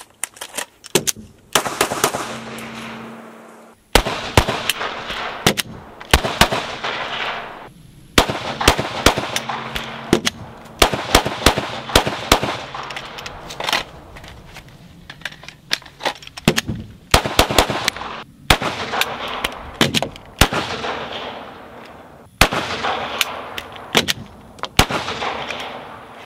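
A handgun fitted with a Shield RMS optic fires long strings of rounds in rapid bursts, sharp loud reports separated by short pauses for reloads, with echoing decay between shots.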